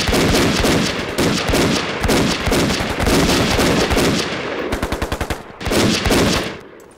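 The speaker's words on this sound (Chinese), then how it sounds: "我只要枪声传到坂田的耳朵里" Gunfire in a Chinese anti-Japanese war TV drama: loud, close bursts of automatic machine-gun fire, including one rapid rattling volley, with only brief pauses between bursts.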